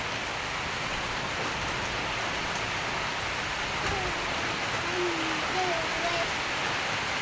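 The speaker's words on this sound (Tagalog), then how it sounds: "Ulan na gitaon na mong tangki." Steady rain hisses evenly throughout, with faint tonal traces of a voice or bird in the background.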